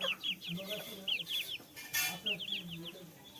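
Village chickens clucking in a run of quick, repeated calls, close by and fairly quiet, with a brief louder burst in the middle and faint voices nearby.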